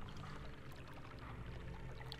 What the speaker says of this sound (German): das Wasser fließt ab.